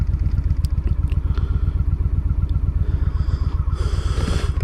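A Honda Shadow 750cc motorcycle engine sputters while running out of gas, a close, loud, rough rhythmic chugging idle with uneven pulses and a hissy burst near the end.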